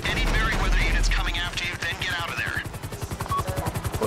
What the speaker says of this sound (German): Oh, da kommt ein Heli.